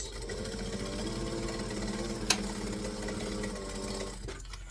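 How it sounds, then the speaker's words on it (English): A sewing machine stitches at a steady, even hum with a fast rhythmic chatter, quiet and close, broken once by a brief sharp click before the motor winds down near the end. "So I'm going to stitch, back stitch, go back to a joining stitch length, preferably."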